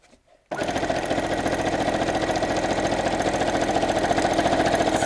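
After a quiet moment a sewing machine starts up and runs steadily with a fast rhythmic clatter while stitching a fabric BBQ utensil roll.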